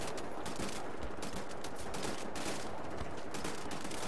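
Rapid gunfire rattles almost without pause in a Wolfenstein: The New Order firefight, dense overlapping shots forming a loud, continuous barrage.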